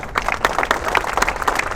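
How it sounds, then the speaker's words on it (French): Scattered hand clapping from a small gathering, a quick uneven patter of claps that stays steady and fairly close for a moment with no talk over it. "c'est moi qui vous applaudis"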